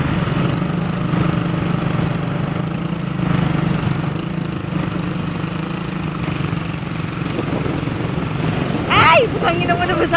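A motorcycle engine runs steadily on a ride in Batangas, a close, continuous mid-pitched drone under people talking, with a brief louder rattle near the end.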